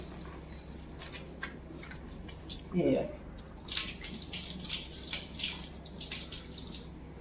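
Hands being washed under running water with homemade organic soap, a soft steady trickle and patter with a brief splash in the middle, under quiet background noise.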